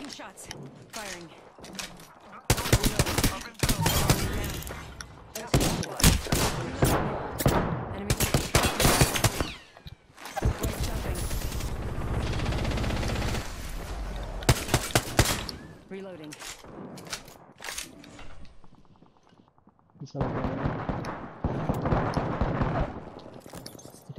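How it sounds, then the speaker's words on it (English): Rapid bursts of gunfire and machine-gun fire ring out in the battle royale video game Apex Legends, loud and close, coming in clusters separated by brief pauses, with game voice lines and a player talking in between. "Taking shots. Firing."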